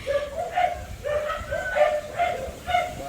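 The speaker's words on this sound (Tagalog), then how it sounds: "Yung mga aso nagwawala oh." Several dogs bark and yip repeatedly at a moderate distance, a steady run of short, overlapping barks.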